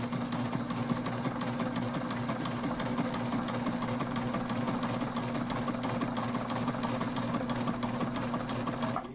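A sewing machine stitches a backpack with a continuous, close, steady rapid hum and fine rhythmic needle chatter at an even pace throughout.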